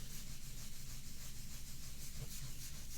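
Gentle rubbing of colour onto a handmade stamped card, a soft steady scuffing that runs continuously at low volume with no talking over it.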